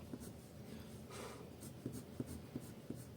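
Prismacolor colored pencil shading on paper, a faint, steady scratchy rasp with short rhythmic strokes toward the end, close and quiet.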